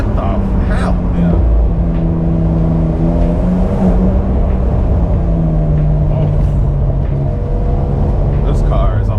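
A Porsche 911 engine revs in short bursts and pulls hard under acceleration, a loud, steady rumble with rising harmonic tones close by, while people talk over it.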